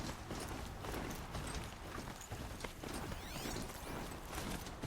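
A horse gallops in the icy wilds of Horizon Zero Dawn: Frozen Wilds, with rapid, steady clip-clop hoofbeats running under game ambience and mechanical whirs.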